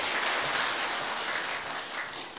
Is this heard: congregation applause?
yes